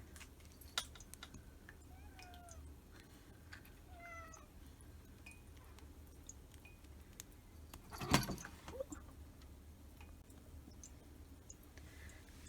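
Several short meows scattered across a quiet room, with light clicks and jangling, then a sharp clattering bump partway through; no talking.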